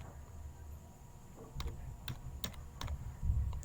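Keys clatter on a computer keyboard during Python coding, a quiet run of irregular clicks and taps with a few sharper, louder strokes spaced out toward the end, no talking.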